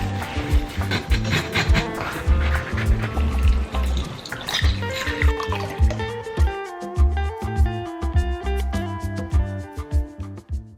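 Lemon juice from two to three lemons is poured into a pancake batter mixture, a close, bright liquid trickle and splashing, continuous at first then breaking into separate drips and splats toward the end.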